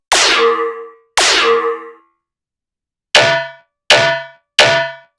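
Five sharp metallic hits from an FM-synthesized snare: two longer ringing ones, a pause, then three shorter ones in quick succession, each decaying fast.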